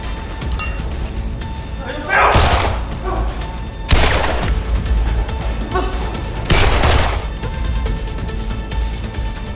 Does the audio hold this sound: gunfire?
yes